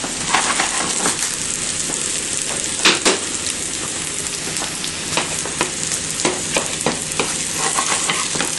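Onion cooking in a pan for a cauliflower, almond and parsley salad gives a dense, steady sizzle up close, broken by occasional stirring scrapes and clacks, with no voices.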